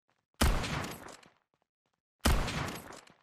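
Two booming sniper rifle shots from a video game's sound effects, each a sharp loud blast with a heavy bass kick and a decaying tail, spaced about two seconds apart with silence between.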